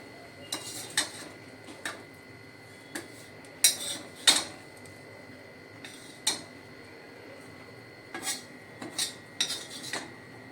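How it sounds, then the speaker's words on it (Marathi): A spoon scrapes and clinks as spicy green chili thecha is scooped from the pounding vessel onto a plate in a home kitchen. The metallic taps are quiet and scattered, with soft gaps between them and no talking. "आता आपण प्लेटमध्ये काढून घेऊया"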